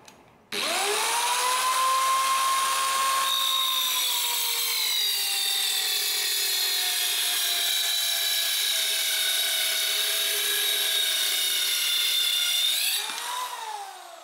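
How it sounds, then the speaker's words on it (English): A small circular saw cuts through a clamped board, trimming a few inches for a Sprinter van kitchen build: a loud, steady, high-pitched whine runs for about twelve seconds after a sharp start, then spins down, with no talking. "we're just using our little circular saw, and we've clamped down some wood so that we get a nice straight line"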